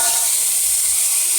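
Water hits a hot spiced curry of potatoes and melted tomatoes for a fish dish, giving a loud, even, close-up sizzling hiss with no pause.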